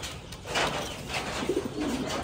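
American giant pigeons cooing in a Thai-style cage, soft throaty coos repeating close by in short rounded phrases with no talking.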